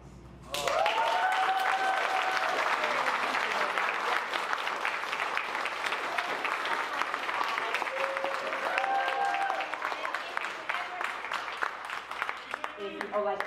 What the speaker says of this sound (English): Let's give each other an applause.